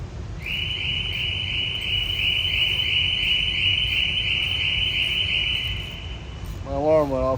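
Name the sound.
alarm going off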